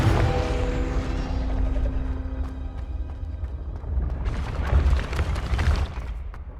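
Confringo blasting spell in the Hogwarts Legacy video game, a deep booming explosion with a low rumble and sharp crackling debris, a second burst swelling near the end, no talk.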